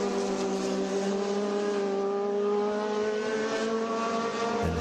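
Air-cooled Porsche race cars pass in a steady, loud engine drone with a sustained high whine, holding strong throughout without any voices.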